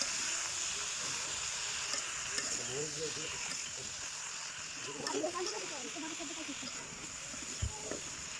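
Leafy greens fry in a pot over a clay stove, giving a steady close sizzle and crackle throughout, with faint voices briefly talking over it.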